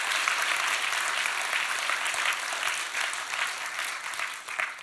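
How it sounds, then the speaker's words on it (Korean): A church congregation claps together in sustained, dense applause that stays steady and close throughout, fading slightly near the end, with no voices over it. "박수 한번 치죠."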